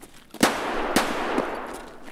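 Escape From Tarkov M1911 pistol firing three spaced single shots, each a sharp close crack with a short reverberant tail, slow deliberate rhythm over quiet background.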